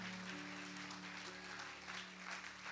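A church congregation claps together, a quiet steady patter of many hands over a sustained organ or keyboard chord droning beneath.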